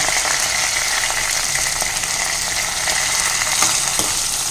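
Chopped onions and curry leaves fry in hot oil in a pan, giving a dense, continuous sizzle that is close and fairly loud, with a few faint scrapes of stirring and no voices.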